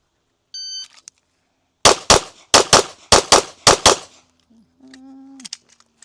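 A pistol fires a string of seven rapid shots at a practical shooting range, loud and close, followed by a faint electronic beep from a shot timer and a brief hum, with no speech.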